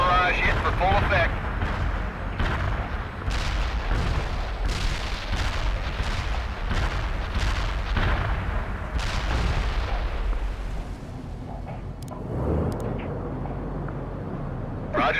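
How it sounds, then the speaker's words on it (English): Heavy artillery barrage in a video game: a dense, continuous run of booming impacts and rumbling blasts that stays loud throughout, thinning into a duller rumble near the end. "Heavy artillery barrage inbound. Artillery barrage hit for full effect."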